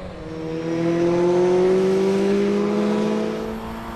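Saloon race cars, including a Mitsubishi Evo, accelerate hard at Oulton Park, engines roaring loud and close with rising, sustained pitch and no talk over them.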